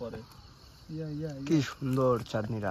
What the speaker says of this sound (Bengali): আর ওই দিক দিয়ে ঝিঝি পোকা ডাকতেছে